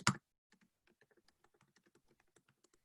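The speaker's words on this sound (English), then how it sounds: "I'm typing it in the chat too" Computer keyboard typing, close and quiet, with irregular clicks of keystrokes in quick succession after one louder thump at the start, with no voices.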